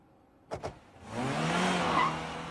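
A car speeds off with its tires skidding: two quick thumps, then a rising engine roar and a drawn-out tire squeal, moderately close and heard alone.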